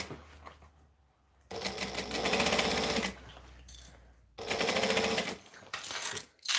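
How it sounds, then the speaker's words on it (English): A sewing machine running slowly over thick strap layers, in two sustained bursts of rapid needle clatter separated by quiet pauses, plus a short final run. "I don't want to snap a needle sewing over thick layers. So we just go slow."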